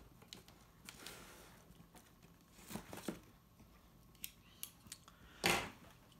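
A knife slices through packing tape on a box during an unboxing of a power tool kit, giving a few soft scraping slits and ending in one louder ripping cut, close by over light background noise.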